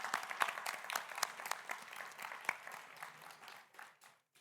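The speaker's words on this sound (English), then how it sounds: "I just want to take a moment to have a round of applause for these wonderful candidates" Audience applause for candidates at a student politics debate, a crowd clapping steadily for a few seconds, fairly faint and distant in the room, then tapering off.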